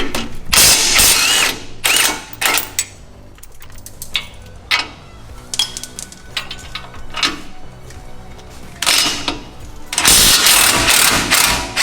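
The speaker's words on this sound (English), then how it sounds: "Take that 18mm socket. There's going to be 2 nuts on the bottom side of this control arm. You want to loosen those." An 18mm socket on a ratchet loosens the lower strut nuts on a 2015 Ford F-150 control arm. The close, loud bursts of rapid clicking repeat with short pauses, and metallic clanks come between them. There is no talking.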